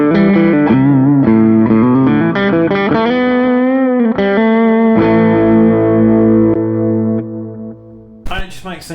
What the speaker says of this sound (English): I press the alternate preset, it kicks in the Custom Audio Electronics boost pedal.